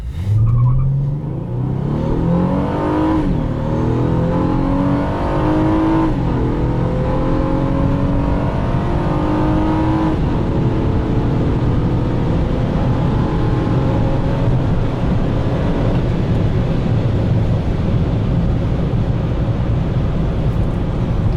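A 2014 Honda Accord V6 engine with KTuned parts revs hard at full throttle and climbs in pitch through several gear changes, loud and close, then settles into a steady high drone.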